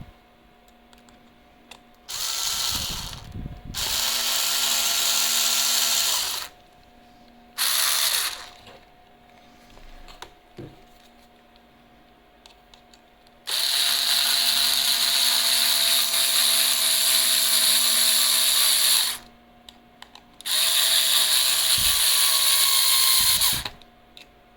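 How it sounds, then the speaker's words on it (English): A power drill drives screws into an RC car's plastic transmission mount, whirring in several long bursts separated by short pauses, close and loud, with a faint steady hum underneath. "Now that we have these two screws here, we're gonna screw that in."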